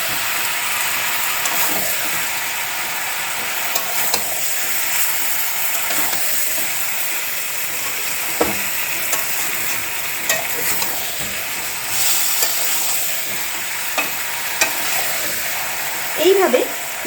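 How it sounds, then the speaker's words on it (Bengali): Chicken and potatoes stir-fried with spices in a wok give off a steady sizzle beneath frequent scraping and clinking from stirring, with a few sharper knocks near the end. "এইভাবে মশলাটার সঙ্গে আলু আর মাংসটাকে কষতে থাকবে।"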